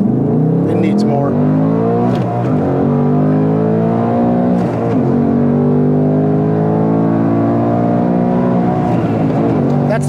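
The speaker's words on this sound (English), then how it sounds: "That's the rev limiter in third." A 2024 Mustang Dark Horse engine revs hard in third gear and repeatedly bounces off the rev limiter, a loud, close, continuous wail with rising and falling harmonics. Brief stutters at the limiter break it up.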